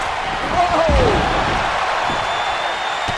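A wrestling stomp lands in the WWE 2K19 video game, a single thudding impact amid steady crowd noise, with a commentator talking over it.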